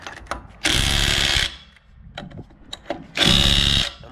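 Ridgid 18V sub-compact brushless impact wrench run in two loud bursts of rapid hammering, each under a second long, with short clicks and handling noise between them.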